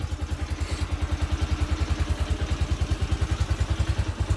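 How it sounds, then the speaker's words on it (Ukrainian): The engine of a Lifan LF1502E motorcycle runs right after being started from winter storage in a garage, with a steady, rapid, chugging idle up close and no talking. "Завівся, в принципі, досить швидко, думав, гірше буде."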